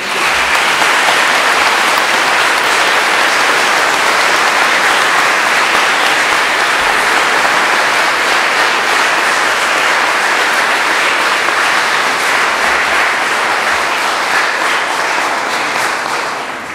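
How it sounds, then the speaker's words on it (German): A crowd at a Catholic confirmation service with a bishop bursts into loud, sustained applause, a dense, even roar of many hands clapping that holds for over fifteen seconds before tapering slightly at the end. "jetzt bekommt sie einen tosenden Applaus"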